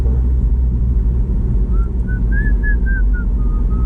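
A rusty Mazdaspeed 6 pulls hard while driving, its engine a loud, dense rumble throughout as a thin turbo whistle rises and falls midway through the run.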